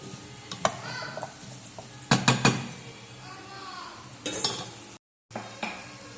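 Vegetables cooking without oil in a pan, stirred with sharp scraping and clattering strokes against the metal and a soft sizzle underneath, in short bursts with quieter gaps.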